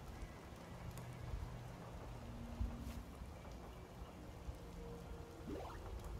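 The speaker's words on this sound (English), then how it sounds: "I like rain noises, but why does that completely replace the music, even when we're in a cave?" Steady rainfall in a video game, a soft continuous patter of drops on surfaces, fairly faint and unbroken, with no voices.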